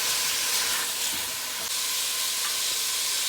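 Steady, loud sizzling of roughly chopped cabbage stir-frying in a hot pan, a continuous close hiss with no talk.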